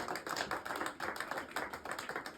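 An audience at a regional health entrepreneurship awards ceremony claps, a fairly faint, steady patter of many hands with no voices over it.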